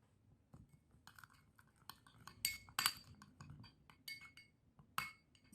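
A spoon clinks against a small bowl while stirring milk cream into rice flour for a homemade face mask, giving light, irregular taps and scrapes close by with no talking.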